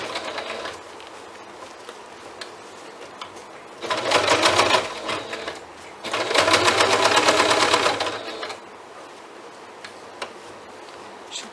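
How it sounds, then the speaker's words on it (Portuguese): A sewing machine stitching a fabric bag runs in two loud, steady bursts of rapid rhythmic clatter, each lasting a couple of seconds and separated by a short pause, with quiet room noise before and after. "Vocês vão costurando aos poucos."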